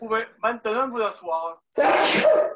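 A single loud, breathy sneeze bursts out right after a person finishes speaking a short instruction.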